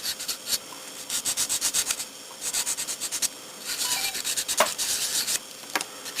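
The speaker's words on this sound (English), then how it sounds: "just going to use an emery board since that was the first thing I grabbed" A plastic part from a Bandai Yamato 2520 model kit is sanded with an emery board, heard as close, quick back-and-forth rubbing strokes in several rhythmic bursts with short pauses between them.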